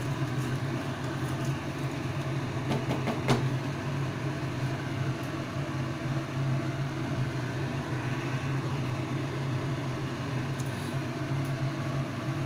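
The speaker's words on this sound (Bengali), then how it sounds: "এবার মশলাটাকে ভালোভাবে কষিয়ে নেব" Spice paste for tomato katla (rohu fish curry) being fried and stirred in a pan over a gas flame, a steady low sizzle and hiss running evenly throughout with a few faint utensil clicks, no talking.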